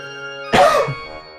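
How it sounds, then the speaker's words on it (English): One sharp, close cough from a person in a quiet room with a steady background hum, lasting under a second. "Sorry, I have to cough."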